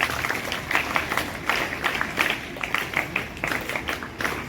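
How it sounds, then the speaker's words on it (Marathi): Audience applause at a school Independence Day prize ceremony, steady dense clapping from a crowd filling the whole stretch with a lively, even rhythm and no speech over it. "टाळ्या."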